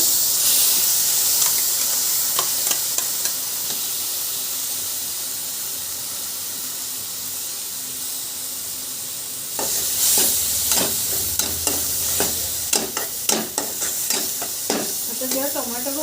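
Tomato puree hits a hot pan with a steady sizzling hiss, and after a few seconds a spoon begins scraping and stirring it in irregular strokes, the frying growing louder and busier near the mic.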